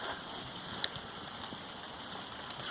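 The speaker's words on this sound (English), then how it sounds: "it's raining today" Rain falls outside in a steady, even hiss, with one sharp drip or tap standing out partway through, and no voices.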